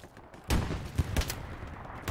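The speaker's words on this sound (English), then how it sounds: "Oh, I'm under fire again." Gunfire in the Hell Let Loose video game: a few sharp cracks and thuds, loudest around the half-second mark and again near one and 1.3 seconds, over a low murmur of background battle noise.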